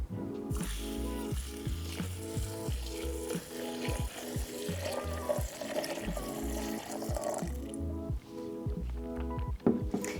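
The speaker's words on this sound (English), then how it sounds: "you'll now need to add 500 grams of cold filtered water" Cold filtered water is poured onto ground coffee in a cafetière for cold brew, a continuous close trickling splash with bubbly, gurgling pulses that ends with a few knocks.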